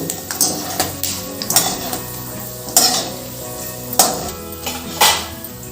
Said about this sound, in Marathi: शेंगदाणे छान तळून होता ते आवाज येतोय मस्त फटफट